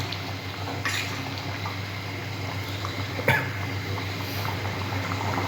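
Potatoes simmering in a covered pot on the stove, a steady low bubbling and faint liquid churn with occasional soft drips and clinks, continuous and close.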